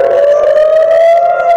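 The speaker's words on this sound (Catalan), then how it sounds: "A Tel Aviv, les sirenes no han deixat de sonar al llarg del dematí." An air raid siren wails over Tel Aviv during a rocket attack, a loud, steady, slightly rising tone that fills the whole clip without a break.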